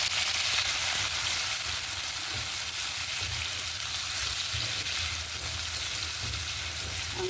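Prawns frying with garlic in a hot pan, a steady continuous sizzle with occasional stirring clatter, close and even throughout.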